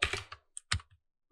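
Quick bursts of keystrokes on a computer keyboard while typing a layer name in Rhino 3D, a rapid cluster followed by a few separate taps, close and clear with no talking.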